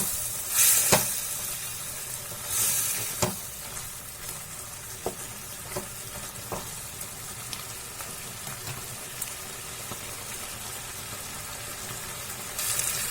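Ginger-garlic paste sizzles steadily in a hot pan for paneer butter masala, with several sharp scraping stirs of a spoon against the pan and brief louder hisses, and no voices.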